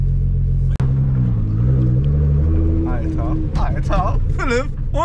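Nissan R35 GT-R engine rumbling and pulling away gently at low throttle, a loud steady drone inside the car with a sharp click near the start and people talking over it.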